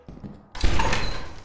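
A door in Lethal Company gives a faint soft clunk, then swings open with a sudden loud sliding rush and rumble that carries through the rest of the moment.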